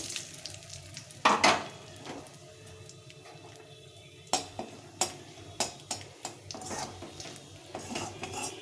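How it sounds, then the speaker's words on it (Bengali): Cumin, bay leaf and dried red chillies frying in hot oil for a fish curry, giving a soft steady sizzle with a string of sharp clinks and scrapes from a spoon against the pan. "প্রথমে একটু জিরে তেজপাতা আর শুকনো লঙ্কা ফোড়নে দেব এটা একটু ভালো করে ভেজে নিতে হবে"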